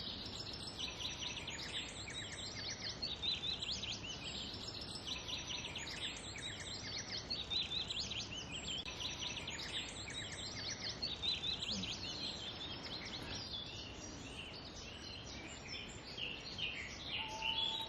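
A wren and a blackcap warble continuously amid a dense Cumbrian dawn chorus, many overlapping bright trills and phrases at moderate distance, steady in level throughout.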